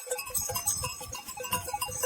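Sheep bleating near farm workers' tents, a few bleats with a faint metallic bell-like clinking, moderately quiet and close.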